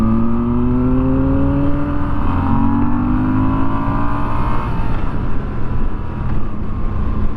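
Moto Guzzi V7 Special motorcycle engine revving close up, a steady loud drone with rising and falling pitch sweeps as the throttle is worked, heard alone without talk.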